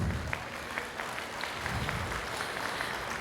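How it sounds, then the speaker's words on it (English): At a Toastmasters gala dinner, an indoor audience gives a sustained round of applause, a dense even clapping that holds steady throughout. "Let us give him a round of applause."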